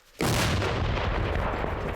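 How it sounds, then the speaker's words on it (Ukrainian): A single heavy artillery blast erupts suddenly after a brief quiet moment, followed by a long rumbling roar and echo that slowly fades. "Один снаряд вогонь! Армата! Постріл!"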